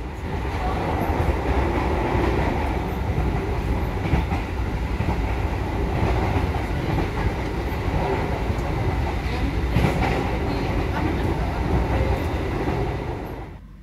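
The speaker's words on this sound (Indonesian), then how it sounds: "Saya sangat menikmati perjalanan malam dengan kereta." A train rolls steadily along the rails at night, a continuous loud rumble with rhythmic clacking of wheels, heard from inside a carriage throughout.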